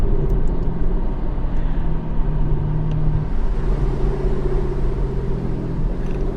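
Aston Martin Vanquish with a front-mounted V12 engine, a steady low rumble held at an even idle or cruise throughout, fairly close and with no talking.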